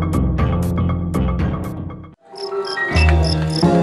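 Crickets kept for fighting in Indonesia chirp loudly and close, in rapid pulsed trills that stop briefly and then resume with a different, denser tone.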